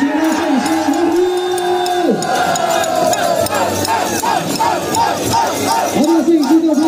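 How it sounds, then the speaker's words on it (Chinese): Crowd of photographers cheering and shouting at a championship award ceremony for a Song Jiang battle array competition, loud and continuous with overlapping voices and rising whoops. "我们看前方摄影师的欢呼。"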